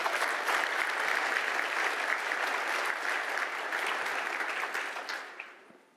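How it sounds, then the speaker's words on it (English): A keynote audience at a tech conference claps steadily for about five seconds. The applause is even and full, then dies away quickly at the end. "Can we give another hand of applause to Brian?"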